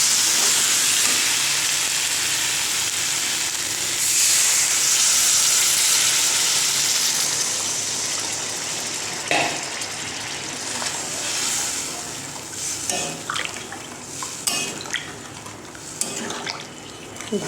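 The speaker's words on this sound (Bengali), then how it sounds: "তো এবার আমি জল দিয়ে দেবো" Water poured generously into a frying pan of fried boiled potatoes for a soybean muittha dish, a loud hissing sizzle that gradually subsides into quieter bubbling with a few scattered clatters, no talk.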